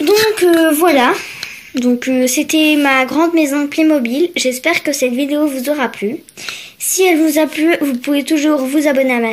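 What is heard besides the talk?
No everyday noise stands out behind the speech.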